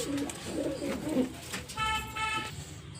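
Soft, warbling coos from a domestic pigeon repeat for about a second, followed by a brief higher tonal note against a faint background hum.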